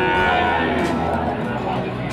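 A calf lows briefly amid a noisy outdoor cattle market in Jaken, with background voices and general crowd bustle.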